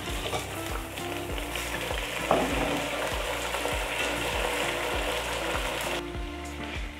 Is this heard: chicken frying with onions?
yes